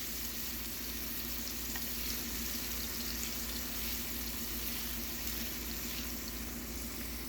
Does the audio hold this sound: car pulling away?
no